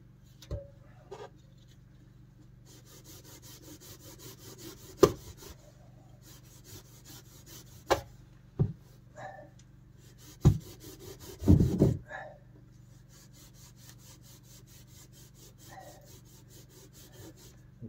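Hand saw cutting through wood in the attic of a chilly Irish farmhouse during insulation work, rhythmic rasping strokes in several bursts over a low steady hum, with a few sharp knocks and clunks between them.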